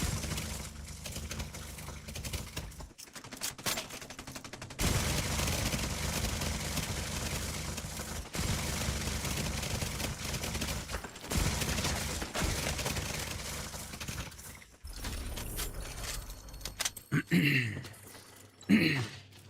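Bursts of turret gunfire in The Division 2 crackle in rapid volleys with brief pauses between, loud and close, while a voice talks over parts of the fight.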